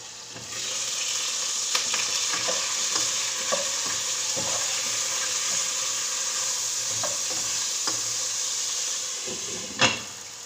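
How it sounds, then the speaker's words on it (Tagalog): Ingredients for chicken soup sauté in a pan with a bright, constant sizzle, punctuated by repeated utensil scrapes and taps and a sharper clack near the end. "Igisa ang mga lamas."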